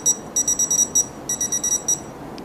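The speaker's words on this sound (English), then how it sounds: "You hear the beeping, you can see the light, the shock is being administered" Electric underground dog fence collar tester beeping as the collar delivers a shock, a run of short, evenly spaced high electronic beeps in two bursts separated by a brief pause, fairly loud over a faint background hiss.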